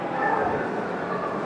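A street dog barks at an international airport in Delhi, its barks mixed into busy background noise with people talking nearby.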